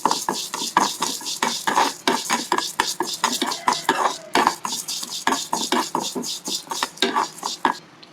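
Urad dal dry roasting in a kadai with no oil, stirred steadily with a metal spoon that scrapes and clinks rhythmically against the pan, close and clear.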